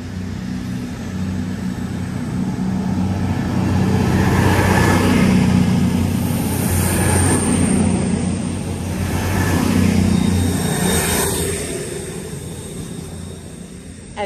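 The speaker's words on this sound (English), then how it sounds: "departing now is the severely delayed 14:49 expected 15:26 cross country service to Manchester Piccadilly" A CrossCountry train pulls out of the station bound for Manchester Piccadilly, a broad rumbling engine drone that swells and holds steady, close and loud, with no talk over it.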